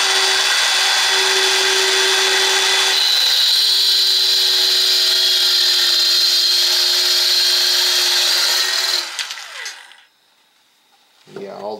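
A Makita SH02Z 3-3/8 inch cordless circular saw cuts wood with a loud, steady high-pitched whine for about nine seconds, then spins down and stops.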